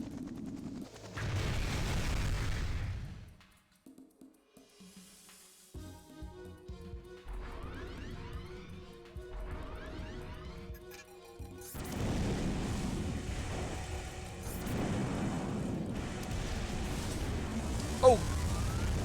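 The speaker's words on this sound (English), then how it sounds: "Oh, God, that was a lot of missiles." Missile barrage in the mecha game Armored Core Nexus: a loud burst of impacts, then quieter scattered clatter and whooshes, followed by a long dense stretch of overlapping explosions and rumbling gunfire with a sharp crack near the end.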